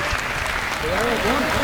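Brief applause from the crowd at a Holi comedy poetry show, loud and close, with a voice speaking over the clapping.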